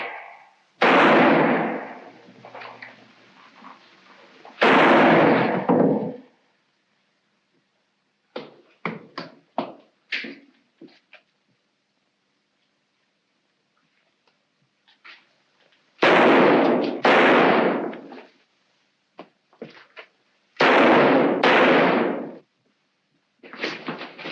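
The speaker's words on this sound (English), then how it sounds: "I think I can manage this with one shot." Gunfire in a 1943 Sherlock Holmes film: four loud, booming bursts, each ringing for about a second, with quieter sharp clatters between them and no talking.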